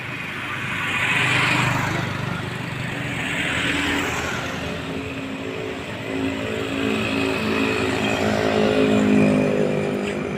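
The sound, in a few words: vehicles passing by on a road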